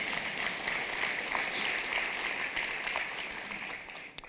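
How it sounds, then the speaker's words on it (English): Luncheon crowd at an Urban League of Cleveland celebration gives a sustained round of applause, a dense, fairly distant roar of clapping that holds steady and thins slightly near the end. "We'll take an applause for that."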